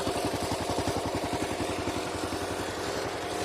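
A small lawnmower engine idles with a steady, even putter of rapid regular firing pulses, loud and close, running alone without any voice.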